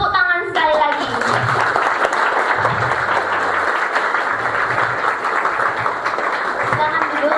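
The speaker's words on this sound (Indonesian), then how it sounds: "Silakan tepuk tangan sekali lagi" Steady applause from a seminar audience filling the room as a continuous wash of clapping, with a host's voice speaking over it near the start.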